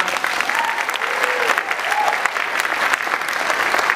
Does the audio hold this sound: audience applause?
yes